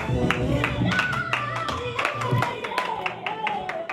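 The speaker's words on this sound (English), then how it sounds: "You did a fantastic job of clapping for someone you never heard of" An audience at a comedy show claps, a busy patter of many hands close by, mixed with murmuring voices and other room noise throughout.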